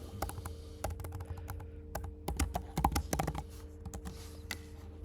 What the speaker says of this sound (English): I can click inside and type whatever text that I want